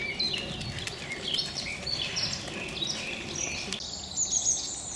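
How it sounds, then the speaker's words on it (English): A summer visitor warbler sings faint, distant phrases along a wooded nature trail at Forty Hall, with a steady hum of insects and other chirps around it. "you might be able to hear in the background one of the summer visitor warblers"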